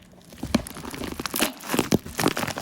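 Fingernails tear and crinkle open the plastic and paper packaging of a Pat McGrath Labs eye palette, in close, irregular bursts of crumpling and ripping, with no talking.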